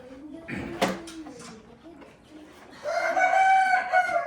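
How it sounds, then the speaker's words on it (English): A rooster crows loudly and close indoors in a small room, preceded by a sharp knock and faint speech. "We have 2 roosters in the house"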